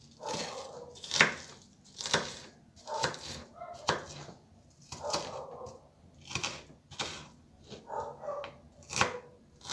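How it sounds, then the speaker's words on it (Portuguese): Onion slices chopped into small pieces on a board, a steady series of close, fairly soft knife cuts, roughly one every second, with occasional faint sounds in the background. "Você vai usar duas rodelas de cebola. Aí você vai cortar ela em pequenos pedaços."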